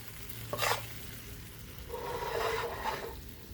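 A stainless steel spoon stirring a blond flour roux in a pan: two scraping strokes, a short one followed by a longer rasping one, over a quiet sizzle with no voices.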